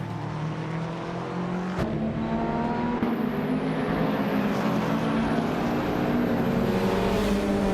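Race cars in a racing video game at the start of a race, led by a 1999 Nissan Silvia S15 Spec R: steady loud engine drone with rising whine of accelerating cars, no talk.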